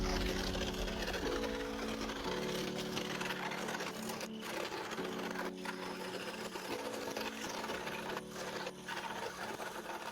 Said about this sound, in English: we're going to move to the scroll saw to cut them all out.